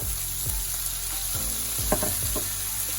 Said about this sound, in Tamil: பாவக்காய் நல்லா வதங்கி கொண்டு வந்துருக்குது